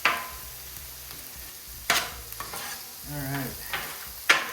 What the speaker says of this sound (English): We're gonna just go ahead and mix that seasoning in.